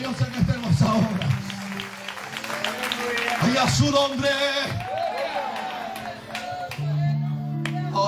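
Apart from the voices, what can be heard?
congregation clapping for God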